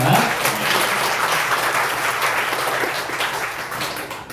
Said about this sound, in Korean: 우리 하나님께 영광의 박수를 드립니다.